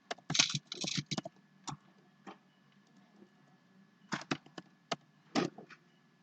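Bursts of typing on a computer keyboard, close and quiet, with quick clusters of key clicks separated by pauses and a few isolated taps.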